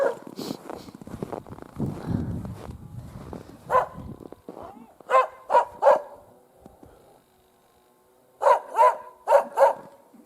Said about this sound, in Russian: Аида тоже вышла, лает